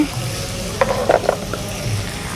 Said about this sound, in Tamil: நம்மளுக்கு நல்லா வதங்கிறதுக்கு உப்பு போட்டு வதக்கிக்குவோம்